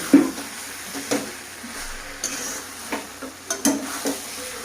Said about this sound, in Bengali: এবার দিয়ে দেবো ভেজে রাখা সয়াবিনগুলো, দিয়ে আবারও এটাকে কষিয়ে নেব।